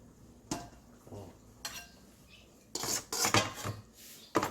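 A metal ladle scoops cooked wontons from a pot into a bowl for wonton noodle soup. Scattered clinks and scrapes build into a quick cluster of louder knocks against the dishes.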